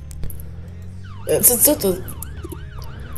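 Police siren in the Roblox game Brookhaven, its rising and falling wail sweeping through the second half of the clip at moderate level while players talk over it.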